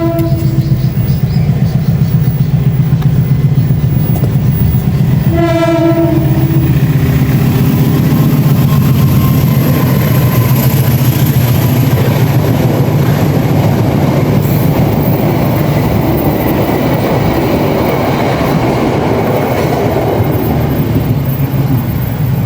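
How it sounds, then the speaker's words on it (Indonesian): A train passes close by outdoors in Indonesia, a steady loud rumble of railcars with a brief horn or whistle sounding near the start, filling the whole stretch with no talk over it. "Mohon maaf ada kereta ya."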